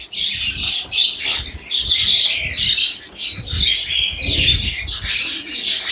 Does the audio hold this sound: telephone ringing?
no